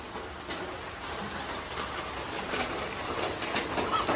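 Steady rain falls outside a village house, a continuous broadband hiss of drops that grows slightly louder toward the end, with faint bird calls in the background and no talking.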